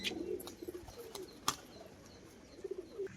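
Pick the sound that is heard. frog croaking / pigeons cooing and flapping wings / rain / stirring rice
pigeons cooing and flapping wings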